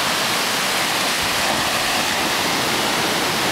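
Steady, loud broadband roar of surf breaking at Mauna Kea Beach on Hawaii's Big Island, near the Mauna Kea Hotel, a continuous wash of waves with no voices.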